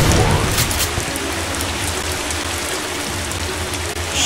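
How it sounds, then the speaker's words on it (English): Acid rain in the video game The Haunted: Hells Reach, a loud, dense, continuous hiss of rainfall on surfaces with no talking. "Acid rain is so fucking stupid."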